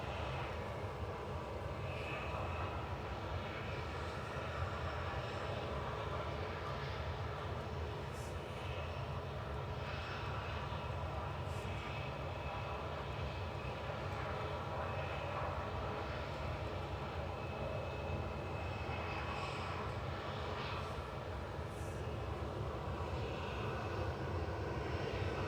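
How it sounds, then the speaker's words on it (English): Ryanair Boeing 737-800 jet engines humming steadily as the plane lines up for takeoff at Manchester Airport, a constant, moderately distant drone with no talk. "Now HQEQ lining up, ready to go on 23 left now for Ryanair, heading down to Alicante."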